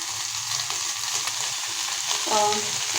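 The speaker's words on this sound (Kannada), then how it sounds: "ಪುದೀನ ಸೊಪ್ಪನ್ನು ಎಲ್ಲ ಚೆನ್ನಾಗಿ ತೊಳೆದು ನಾನು ಹಾಕಿ ಬಾಡಿಸ್ಕೊತಾ ಇದ್ದೀನಿ" Washed mint and coriander leaves sautéing in a pan give a steady, close frying hiss that runs for the whole stretch, with a few faint stirring sounds and no talk.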